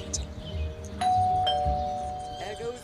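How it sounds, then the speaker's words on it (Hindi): Doorbell in the Scary Teacher 3D video game rings once with a clear electronic chime that holds for over a second, while someone talks over the game sounds. "डोरबेल बजा के भाग"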